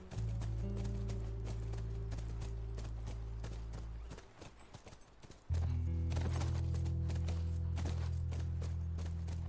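Horse hooves clip-clop in a steady walking rhythm on a ranch in The Last of Us, moderately close over a low droning background that briefly drops out and returns louder.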